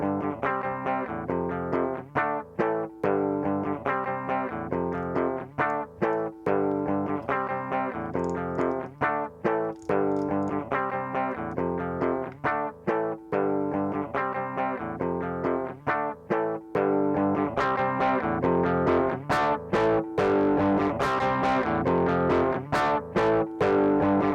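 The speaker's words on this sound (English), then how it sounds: "So we're gonna give this guitar like a distorted feel." Heavily distorted electric guitar playing chunky chords and riffs with short pauses, loud and close, growing denser toward the end.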